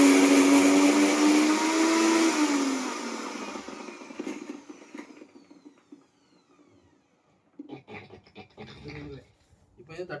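A mixer grinder blends coconut and chillies for a Qatari fisherman's cooking. Loud, steady grinding runs for about three seconds and winds down, then fades out. Scattered handling noises and voices follow over the last few seconds.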